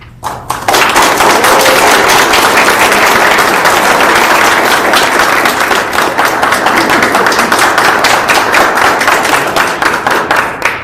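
Sustained applause from an audience at a city council meeting greeting newly sworn-in council members, loud dense clapping that begins abruptly and continues steadily to the end.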